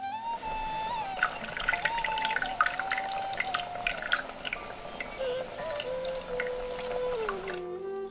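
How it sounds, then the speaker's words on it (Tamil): Soaked tamarind water pours onto hand-squeezed tomatoes for a mutton bone rasam, a continuous close splashing trickle whose ringing tone slowly drops in pitch as the vessel fills, with no talking. "ரெண்டு தக்காளியை கையாலேயே நல்லா பிழிஞ்சிட்டு ஊற வச்சிருந்த புளியவும் கரைச்சி தக்காளி கூடவே சேர்த்துருவோம்"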